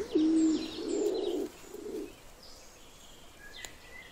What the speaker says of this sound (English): The laurel pigeon.